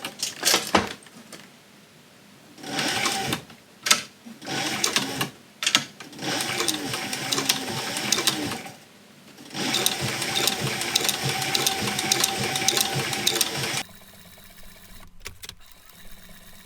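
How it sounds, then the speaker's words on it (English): A sewing machine stitches the leather fender of a saddle, running in several steady bursts of rapid, loud mechanical chatter with short pauses between them. "we'll just sew this bottom leg of the fender right where it needs to be"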